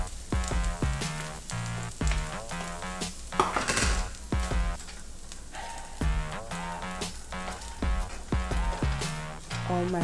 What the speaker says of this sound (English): I'm just gonna add my mixed veggies to it also